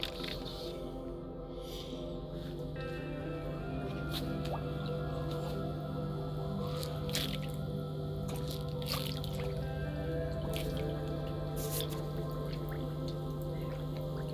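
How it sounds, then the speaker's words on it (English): Fish being fed at a garden carp pond in autumn: soft drips and small squishy splashes of water over a steady low outdoor hum, continuous and moderately quiet throughout. "I'll feed the fish in the carp pond."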